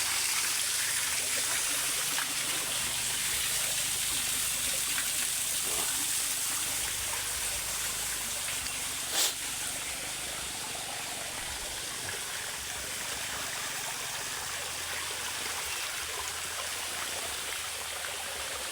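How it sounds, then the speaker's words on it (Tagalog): Flowing water at a tall waterfall, a constant rushing roar heard close by, with a brief sharp knock partway through. "Baba tayo guys para titingnan natin yung agos ng tubig."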